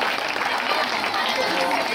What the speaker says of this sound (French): Chers parents, acclamez ces présents enfants